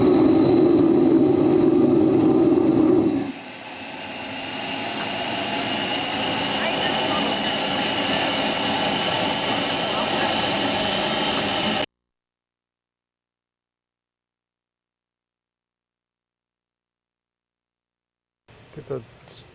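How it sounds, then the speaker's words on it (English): A homemade jet engine built from a turbocharger roars loudly, its afterburner surging in and out with a deeper rumble over a sustained high whine, then the sound cuts to silence before brief faint noise returns. "The afterburner kicking in and out here."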